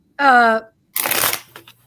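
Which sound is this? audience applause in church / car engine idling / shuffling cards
shuffling cards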